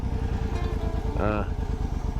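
A Suzuki C50 motorcycle fitted with a Lehman trike kit, riding along with a steady engine drone and wind rumble, while someone talks over it.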